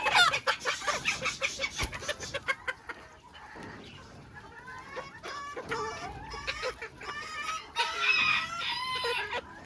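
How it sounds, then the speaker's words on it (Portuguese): Small Polish-breed rooster and hens in a farm pen, rapid loud clucking that gives way to rising crowing-like calls and more clucking, close and continuous. "Ele parece grande, mas é bem pequenininho esse galinho."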